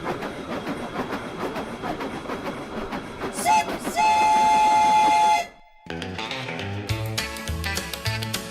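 A train rolling in a song: rhythmic clickety-clack of wheels on rails, then a sustained loud steam whistle, a brief drop to near silence, and music with train sounds resuming.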